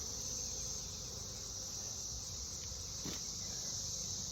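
A low, steady drone of insects hums around a beehive at a moderate distance beneath a high continuous whine, with a brief faint knock partway through.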